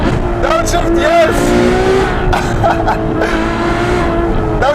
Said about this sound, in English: There's nothing I love more in life than a V12 Ferrari. The sound!